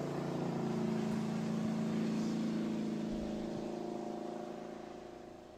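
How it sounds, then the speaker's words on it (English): A speedboat engine drones steadily at close range as the boat makes repeated passes over a fire on the water, the tone holding even before slowly fading as it pulls away. "Our speedboat firefighter makes four passes to ensure the fire is out."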